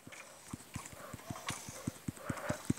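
Horse hooves clip-clop in Minecraft, a quick regular run of hollow knocks that grows louder over a quiet game background.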